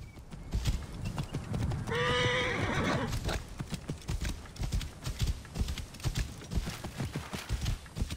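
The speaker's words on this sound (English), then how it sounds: "so taking the horse" Horse in the game Assassin's Creed Origins gives a loud whinny, then gallops off with a rapid, steady clip-clop of hooves, close and prominent throughout.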